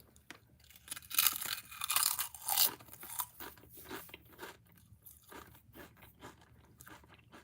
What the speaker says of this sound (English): Ready for the nice crunching sound?